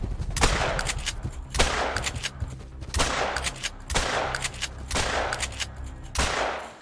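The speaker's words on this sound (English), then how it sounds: "I shot him six times with slugs, didn't miss, and he's still going." Shotgun slugs fired at a buffalo in Hunter: Call of the Wild, six loud booming shots at steady intervals of about a second, each trailing a rolling echo, with no talk.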